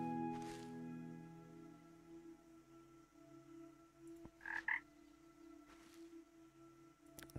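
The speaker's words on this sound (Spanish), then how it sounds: "Tenemos aquí otra rana que..." A frog croaks in the video game Ikonei Island: An Earthlock Adventure, with a few soft, brief croaks spaced apart over a steady low musical background.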